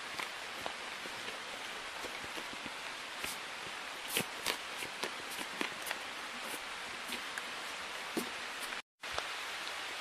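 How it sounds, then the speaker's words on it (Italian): Rain dripping through trees on Monte Cucco, a steady soft patter with scattered louder drops hitting leaves and ground, close and continuous, with no talking. "Sente le piove, oh."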